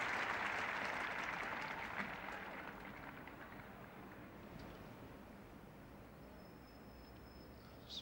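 Cricket crowd at The Oval, England v Australia Test match in 1975, applauding with a broad, steady wash of clapping that starts fairly loud and gradually thins toward a quieter hum of crowd noise.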